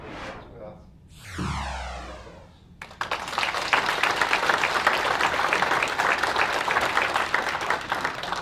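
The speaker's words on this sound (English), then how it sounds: "I think that's worth applause." Audience at a workforce development council event in Thunder Bay breaks into sustained applause for two visiting guest speakers, dense clapping filling the room after a brief moment of speech.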